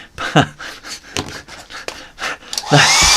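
A hair dryer blows intermittently in short bursts over a wet watercolour painting, close and fairly loud, with a steadier blast at the end.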